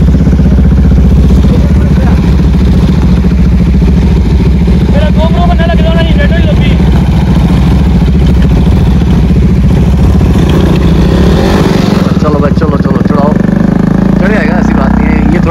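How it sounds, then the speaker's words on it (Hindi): Off-road motorcycles climbing rocky terrain with other 4x4 vehicles nearby, loud continuous engine drone with revving surges very close, people talking over it. "तीन बाइकें हैं, तीनों एक दूसरे की हेल्प कर रहे हैं थोड़ा ऊपर नीचे करने में।"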